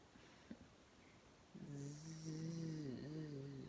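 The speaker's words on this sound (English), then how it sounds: "All the seals were snoring." Seals snoring: a deep, drawn-out snoring sound begins after a short quiet stretch and rumbles on steadily, fairly loud and close.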